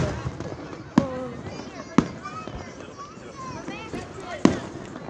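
Fourth of July fireworks burst in three sharp, loud booms spread across the stretch, with crackling and a busy crowd of voices, children among them, chattering and calling throughout.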